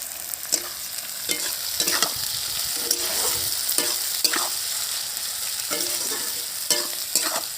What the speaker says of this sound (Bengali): পেঁয়াজ হাফ ভাজা হয়ে গেছে